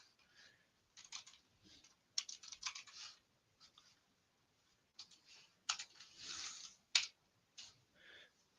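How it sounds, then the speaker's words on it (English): Computer keyboard typing in quiet bursts of soft clicks, irregular key presses grouped into short runs with pauses between, close and faint with no talk. "I'll just type in."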